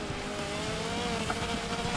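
Race cars roar together in the Wreckfest video game, a dense, steady engine drone with overlapping revving tones and faint tyre noise, close and continuous with no talk.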